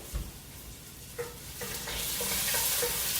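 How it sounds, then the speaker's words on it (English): Onion sautés in a pot as the base for a bean and butternut squash chili, quiet at first with a couple of spoon knocks, then a sizzle that swells into a steady frying hiss. "I am going to saute my onion for a few more minutes"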